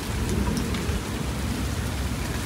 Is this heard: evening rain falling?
yes